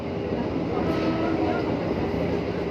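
A Japanese-built JR 203 commuter train running on the rails between Tanah Abang and BSD, heard from inside as a steady loud rumble of wheels and motor, continuous throughout.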